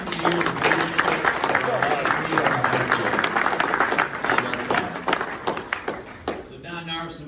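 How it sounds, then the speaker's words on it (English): Crowd at a high school 50th anniversary reunion applauding George Cooley, dense close clapping throughout with some voices mixed in, tapering off near the end. "George Cooley, another round of applause"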